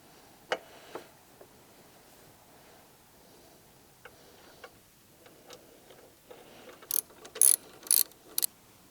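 A ratchet fitted with a 14mm socket works on the side stand bolt of a Honda CRF300L, giving scattered faint clicks and then a quick, louder run of ratcheting bursts near the end, close by in a quiet room.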